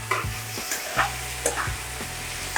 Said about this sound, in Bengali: চিংড়ি মাছটা ভাজা হয়ে গেছে